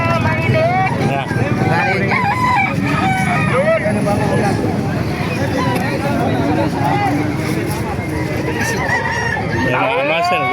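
A rooster crows amid a busy outdoor chicken market in Calumpit, Bulacan, with several people talking and chickens clucking around it.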